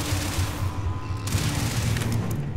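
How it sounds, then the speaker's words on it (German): Rapid bursts of gunfire from enemy creatures in the video game Starfield crackle and boom in quick succession, moderately loud with no talking. "die Viecher knallen uns halt ab"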